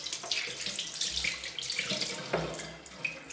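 Water runs from a tap while makeup brushes are wetted under it, a steady close splashing stream with brief gurgles and shifts as the brushes move through the flow.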